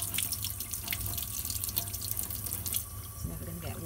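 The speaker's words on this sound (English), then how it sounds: "The best thing to do is run the warm tap." Warm water runs steadily from a tap into a sink, a close, continuous splashing stream with dripping detail that shifts slightly near the end.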